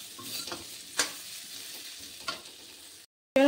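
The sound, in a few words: potatoes frying in a pan with salt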